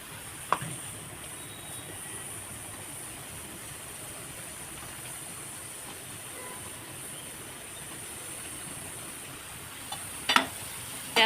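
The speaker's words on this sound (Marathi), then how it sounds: "आता कांदा सुद्धा लाल झालेला आहे त्यामध्ये आता मी टमाटर घालून घेते" Chopped tomatoes go into browned onions in a cooking pan for a whole masoor lentil curry, giving a steady, moderate sizzle with occasional scrapes and stirs and a louder clatter near the end.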